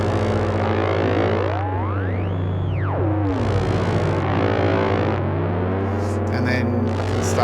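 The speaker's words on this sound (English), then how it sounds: "if I open this up, you'll be able to hear the scanned going on. You'll be able to hear the Benjolin." Benjolin chaos module in a Eurorack setup playing a sequence: continuous loud synth tones with a steady low drone, a rising and falling sweeping pitch, and bursts of bright noisy texture.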